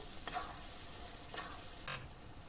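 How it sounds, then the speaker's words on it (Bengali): Ground cumin, coriander and turmeric with salt and slit green chillies sautéing in a pan, with about three soft scraping stirs over a faint steady sizzle, no voices. "এখন ভালো করে মশলাটা কষিয়ে নেব"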